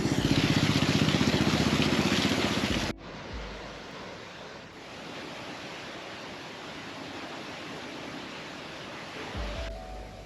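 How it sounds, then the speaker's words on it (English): Kakabeka Falls on the Kaministiquia River pours in a broad, steady roar of falling water, loud and close at first, then softer yet continuous as the listener moves, with a brief louder swell near the end. "I found a secret waterfall."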